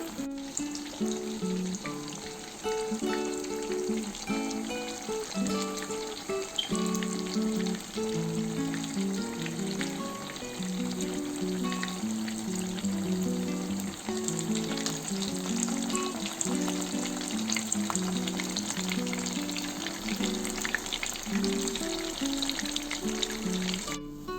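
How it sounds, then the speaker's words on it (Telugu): King fish (vanjaram) steaks shallow-frying crisp in a hot pan, a loud, continuous oil sizzle with bubbling and spitting that holds steady throughout, close up and with no talking. "ఒకసారి వేసిన తర్వాత ఒక 5 నిమిషాలు పెట్టుకొని మళ్ళీ టర్న్ చేసుకొని ఒక 5 నిమిషాలు పెట్టుకుంటే ఫిష్ ఫ్రై రెడీ అయిపోతుంది"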